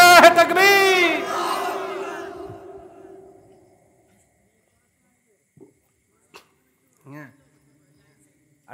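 A large crowd at an Islamic religious gathering in Bangladesh roars a loud, unified chant in answer to a takbir call. The shout swells for about three seconds, then fades into near silence broken by a few faint, scattered sounds.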